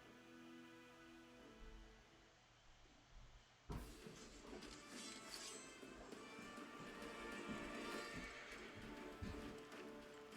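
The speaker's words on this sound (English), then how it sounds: "Plagued horses." Horses whinny and snort in a video game while hooves clip-clop steadily; the sound jumps louder partway through and stays busy with neighs and stamping.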